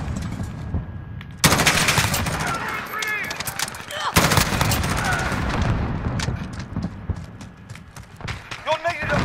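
Rapid gunfire rattles in Call of Duty Modern Warfare, dense bursts of automatic fire and single shots crackling loudly and continuously, with voices speaking over the combat.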